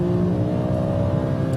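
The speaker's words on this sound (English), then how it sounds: "Perfect time to start experimenting with the 5-litre V10 engine." A BMW M5 E60 with its 5-litre V10 revs steadily in power mode, a loud, sustained engine tone with strong harmonics heard close up, alone with no talk.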